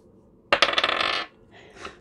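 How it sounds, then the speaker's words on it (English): Astrology dice tossed for a reading clatter sharply for under a second, a quick burst of hard rattling taps close by, followed by a softer brief rattle as they settle. "I'm gonna roll the dice to see what signs are coming through."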